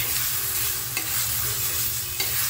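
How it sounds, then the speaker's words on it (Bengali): Paneer is warmed in a pan with a continuous sizzle and light stirring, two soft taps of the utensil standing out against the even frying noise. "পনিরটাকে একটু গরম করে নিচ্ছি"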